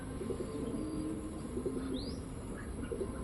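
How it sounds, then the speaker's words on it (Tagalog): Pigeons cooing in a loft, a soft low rolling coo repeating steadily at close range under faint ambient hiss, with a brief higher chirp partway through. "Sayang kong kalapati eh."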